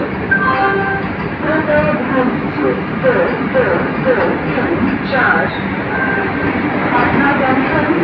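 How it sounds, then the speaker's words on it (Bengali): A Vande Bharat Express, train 22234 from Patna to New Jalpaiguri, rumbles steadily with continuous rail and carriage noise close by, while people talk over it throughout. "22234 পাটনা নিউ জলপাইগুড়ি বন্দে ভারত এক্সপ্রেস।"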